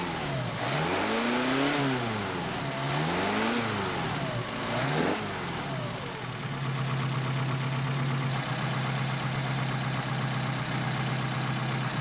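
Mercedes 190SL engine fitted with Solex PHH44 carburetors, steady and close, with revs rising and falling in a few blips early on before settling into a low, even idle with no talk.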